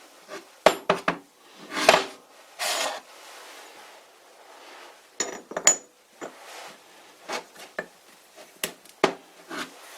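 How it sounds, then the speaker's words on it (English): Metal parts of a small Bison 3-jaw lathe chuck clinking and scraping during reassembly, a series of sharp close clinks and brief rubbing sounds separated by quiet pauses. "So now I'm going to put the chuck back together."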